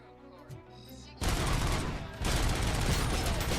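Machine gun fire in the RoboCop video game, a dense, continuous burst of rapid shots that starts abruptly after a quieter moment, briefly dips, then resumes loud and sustained.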